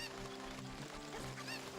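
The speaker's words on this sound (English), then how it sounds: "Trying to pick up the chicken." Cucco chicken from Zelda: Ocarina of Time squawking in honking, goose-like cries, a few loud close calls over a steady bed of game music with no talk.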